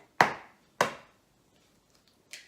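An egg knocks sharply twice against a bowl while being cracked into matcha and honey cupcake batter. A fainter third tap follows after a pause, in an otherwise quiet room.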